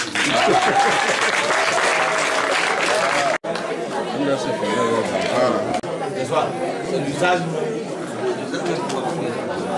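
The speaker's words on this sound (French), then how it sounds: "Je crois que vous devez m'applaudir pour ça" Students at a lycée book donation event applaud loudly and continuously, dense clapping blended with crowd chatter and voices throughout, with one brief break partway before the clapping resumes.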